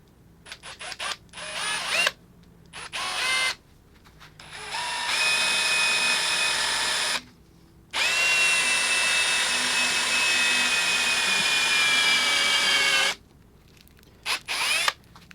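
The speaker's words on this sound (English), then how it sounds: "Now I've just got one more hole to drill." A power drill bores a hole into a woodturning blank in loud, whining bursts: several short stabs, then two long sustained runs separated by a brief pause, followed by a few final quick pulses.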